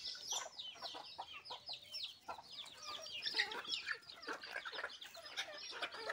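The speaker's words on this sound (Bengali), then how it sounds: "এই তো চালগুলো এখন মুরগিগুলোকে খেতে দেব।" Farm chickens cluck busily while being fed rice, many overlapping short calls and squawks from several birds, lively and moderately near, with no talk.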